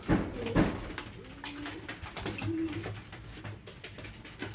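Racing pigeons coo softly in a loft, low murmuring calls repeating at a moderate distance amid faint room noise, with no talk over them.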